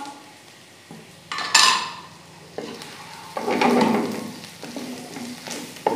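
Chopped ginger and garlic drop into a hot pan with a loud hiss, followed by sizzling and scraping as a spoon stirs them around.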